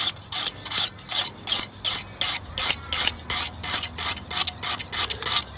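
Close rasping strokes as a knife blade is worked back and forth on a sharpening system, a steady rhythm of about two to three scrapes per second, each one a bright, gritty rub.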